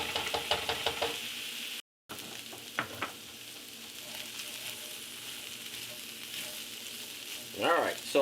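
Shrimp sizzle steadily in a skillet with sweet potato and kale, broken by a few sharp utensil knocks against the pan early on and a scraping stir near the end.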